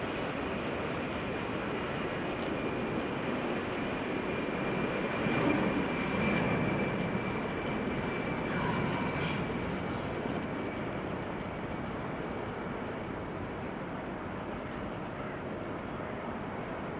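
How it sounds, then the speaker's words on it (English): A Gulfstream jet taking off at Amsterdam Schiphol Airport, a steady broad engine roar heard from a distance that swells slightly midway, continuous and without talk. "the Gulfstream is going to take off in the background."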